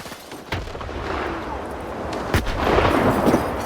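Booming grenade explosions in S.T.A.L.K.E.R. 2 burst over a continuous rumble of gunfire and battle noise, several heavy blasts landing in quick succession at mid distance.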